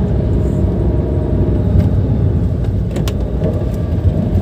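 A 2014 Nissan March 1.2-litre manual car engine pulls in second gear with a slight bucking; a steady, loud, low rumble runs throughout with no voices.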